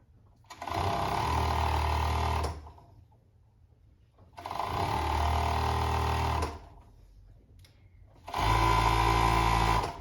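A sewing machine runs in three separate bursts of about two seconds each while stitching stretchy fabric for winter pajama pants, with a steady motor whir and quiet gaps between runs.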